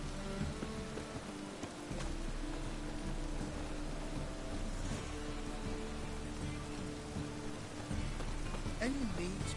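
Steady rain in The Witcher 3: Wild Hunt patters on a surface throughout, a soft continuous hiss with a few brief sharper sounds near the end.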